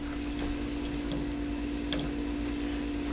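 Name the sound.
onions sweating in butter in a pot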